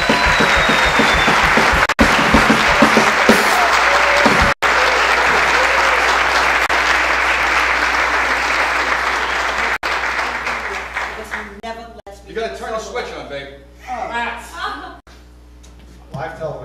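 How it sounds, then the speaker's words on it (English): An audience at a live comedy show at a New York bar breaks into loud, sustained applause that gradually thins into scattered clapping as it fades near the end. "let's give a big round of applause to Miss Sue Kroll."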